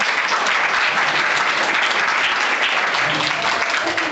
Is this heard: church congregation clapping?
yes